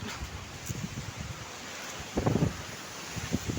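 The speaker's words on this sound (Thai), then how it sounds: "ลมแรงมากครับ" Strong wind gusts through trees during a summer storm, a continuous rushing roar with rustling bursts that swell louder toward the end, heard without talk.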